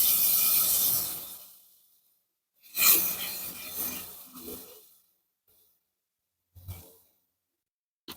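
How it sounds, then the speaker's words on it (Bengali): Fish roe is stirred in a pan of cooked spice masala, giving several short bursts of scraping, rubbing and sizzling separated by near silence, close and fairly quiet. "এখন মাছের ডিমটাকে অনবরত নাড়তে হবে, যাতে একসাথে জমাট বেঁধে না যায়।"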